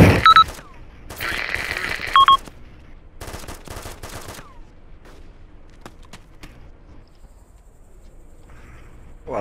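Gunfire in the military shooter Arma 2: sharp bursts of automatic fire at the start and around two seconds, followed by scattered single distant shots and quieter background clatter, with electronic beeps mixed in.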